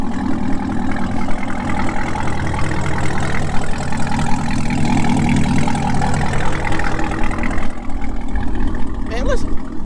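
A Chevy Camaro engine runs at a steady, loud rumbling idle close by, with someone talking over it throughout.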